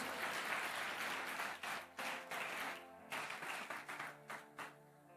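A church congregation applauds, quiet and somewhat distant clapping that thins into scattered claps toward the end, with a faint sustained musical tone underneath.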